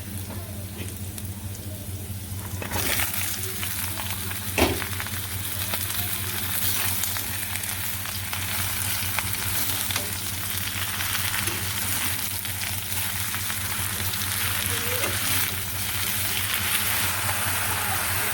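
Cauliflower florets frying in oil with already fried onions in a village kitchen give a steady, loud sizzle with occasional stirring clatter, constant and close throughout with no talking.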